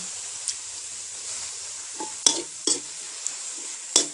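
Frogs stir-fried with basil in a pan: a steady high sizzle of frying throughout, with a few sharp scraping clanks as a utensil stirs against the pan.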